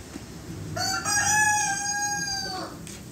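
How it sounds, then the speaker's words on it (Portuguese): A rooster crows once in a backyard garden with fruit trees, a single drawn-out call rising and falling, clear and moderately close over faint background noise. "O galo não para de cantar."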